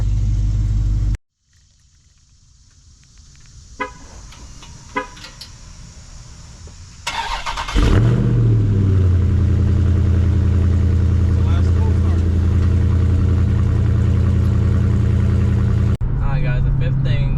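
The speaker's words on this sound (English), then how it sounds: "the fifth thing that I like about this car is the sound and the power delivery, which is a nice sounding car" A 2021 Dodge Charger Scat Pack widebody rumbles loudly nearby, its V8 engine surging into a deep sustained roar as it revs and drives off, after a quieter stretch of idle and faint clicks.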